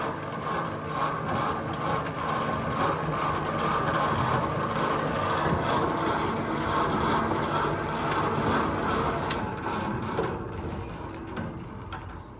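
Repaired motor-driven machinery with a belt or chain drive runs steadily and loud, a continuous mechanical clatter with ratcheting and gear-like rattle that holds for the whole stretch without talk.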